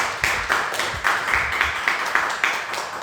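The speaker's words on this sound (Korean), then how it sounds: "박수로 감사하고" Members of a church congregation clap together, a steady run of claps fairly close that fills the room for about three seconds, with no talking.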